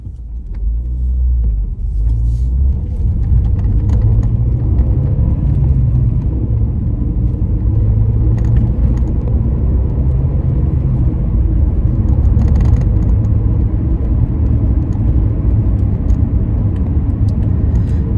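Steady, close engine rumble and road drone from inside a moving 2005 Renault Mégane RS 225 Trophy hatchback, continuous and fairly loud with no talking.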